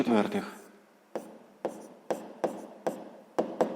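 A math solution being written by hand produces a series of short, crisp pen strokes on paper in an uneven rhythm, close and fairly quiet, following a brief burst of speech.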